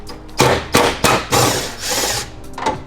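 A small 10mm bolt is backed out of a Toyota Tacoma tailgate with a power tool, giving several short, loud bursts of whirring and clacking close up.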